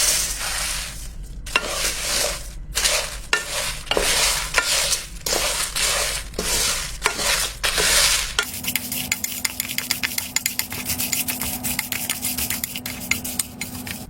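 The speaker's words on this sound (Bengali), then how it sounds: "আমি নাড়ানোর সুবিধার্থে একটি জাস্ট কড়াইয়ের মতো একটা পট নিয়ে নিয়েছি" Spices are stirred in a kadai-like pot, with loud repeated scraping strokes of a spoon against metal over a sizzle for the first half, then a quieter, steadier crackling sizzle with rapid light ticks.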